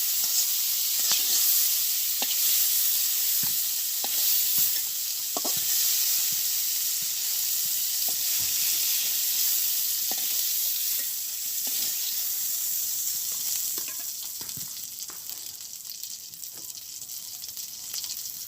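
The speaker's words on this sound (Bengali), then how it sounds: "তো আমার চিংড়ি মাছ হয়ে গেছে ভাজা, বেশি ভাজবো না, অল্প অল্প ভাজবো।" Shrimp frying in a wok in a village kitchen, a steady bright sizzle that holds throughout, with a few soft clicks of stirring scattered on top and the hiss easing slightly toward the end.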